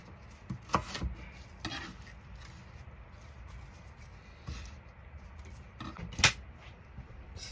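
A knife cuts beef for a homemade caldito soup, giving a few sharp, sparse knocks on a board with long quiet stretches between them, faint and close by.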